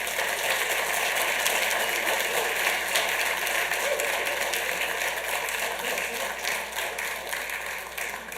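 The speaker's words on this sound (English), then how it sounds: "if you guys could please give them a round of applause" Audience at a Santa Ana city council meeting applauds in recognition, a steady wash of clapping in a large chamber that holds evenly and fades slightly toward the end.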